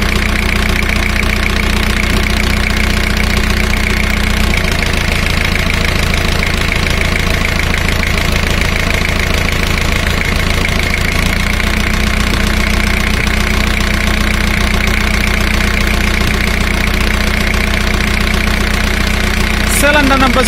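A car engine idles steadily through a cylinder power balance test, its low, even rumble running continuously with a brief change in tone partway through as a cylinder is cut.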